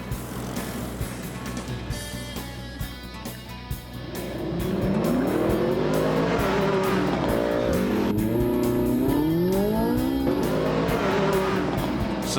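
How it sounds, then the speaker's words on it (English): A car accelerates hard in a race, the engine note climbing loudly through repeated rising sweeps as it gears up, close and sustained with faint tire noise. "This burst of acceleration could decide who goes on American television."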